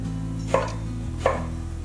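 A kitchen knife slices through aubergine on a cutting board with two distinct, evenly spaced chops over a low steady hum, close up with no talking.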